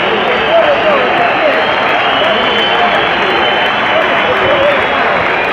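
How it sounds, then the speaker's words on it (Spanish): A loud, dense stadium crowd roar fills the air at San Lorenzo's Estadio Bidegain as departing players leave, with whistling and scattered applause blending into a constant wall of noise. "La mayoría silban y algunos aplauden"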